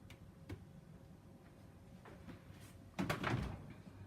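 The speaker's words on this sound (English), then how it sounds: "I like the way the fridge closes with this." A Hisense RQ689N4AC1 American fridge freezer door swings shut with a soft thud and brief rattle near the end, close by in a quiet kitchen, following a few faint taps.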